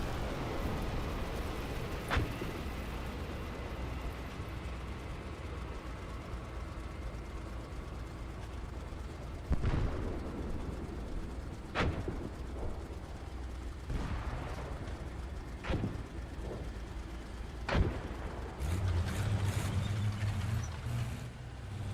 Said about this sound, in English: you could hear an enemy aircraft coming in, and we start getting strafed